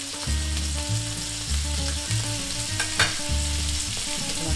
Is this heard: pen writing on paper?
no